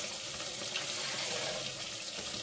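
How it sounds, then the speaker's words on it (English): Octopus cooking in a pot on the stove, giving a steady, close, broadband sizzling hiss that runs unbroken without pauses, with no talk over it. "Let me check now my octopus. I hear it spitting."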